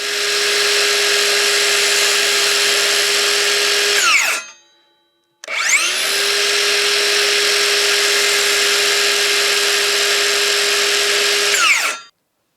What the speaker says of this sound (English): The blade's only going down so far, right? Because it's a circular blade.